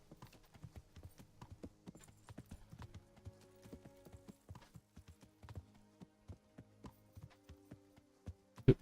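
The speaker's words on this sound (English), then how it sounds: "Clip clop, clip clop" Horse hooves clip-clop steadily at a walking pace in the medieval game Kingdom Come: Deliverance, a rhythmic run of light, close taps continuing throughout without speech.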